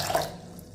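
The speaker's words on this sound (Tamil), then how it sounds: "கொஞ்சம் தண்ணி ஊற்றிக்கிடுவோம்." Water is poured into a bowl of curd, giving a brief, close splashing trickle that fades within a second.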